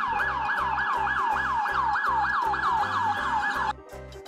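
Police car siren wailing in a steady repeating rise-and-fall pattern, loud and close, with a low engine rumble underneath before it cuts off abruptly near the end.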